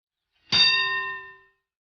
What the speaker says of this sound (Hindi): ओ, घंटी बज गई।